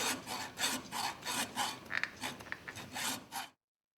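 A saw rasps through the skull bone during a small animal necropsy, making a steady series of about a dozen rhythmic back-and-forth strokes, close and clear, before stopping abruptly.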